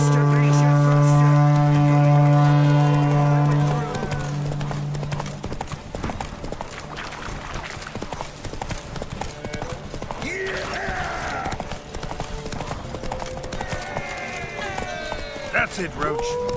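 Horses galloping in a race in The Witcher 3, rhythmic hoofbeats running beneath a voice calling out and music at the start, with a horse's snort near the end.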